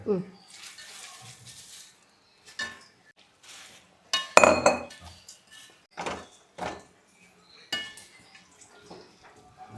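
Metal spoon scraping and clinking in a pan as dried shrimp is mixed with onion and chili, a few scattered knocks and clatters with quiet gaps between them.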